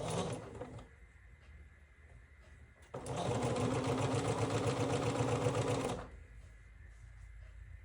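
A sewing machine stitches quilt block pieces together for a Summer Star block in one loud, steady, rapid run of about three seconds. Quieter room tone comes before and after.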